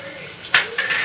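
Cumin and mustard seeds hitting two spoons of hot oil in a kadai, giving a brief close sizzling crackle over a steady low hiss.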